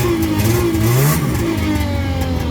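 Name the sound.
1991 Arctic Cat Lynx 300 snowmobile engine revving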